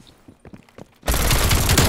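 Dense, loud automatic gunfire in Call of Duty: Black Ops Cold War bursts in after a second of quiet scattered game noise and continues steadily to the end.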